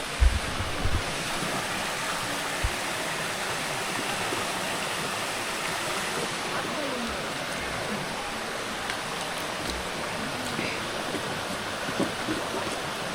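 Stream water rushing continuously while someone washes their feet on a Ghatshila trip in Jharkhand, a steady close wash of flowing water with a few faint knocks and splashes and quiet voices underneath.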